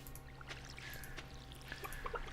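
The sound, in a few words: watering crops in Stardew Valley video game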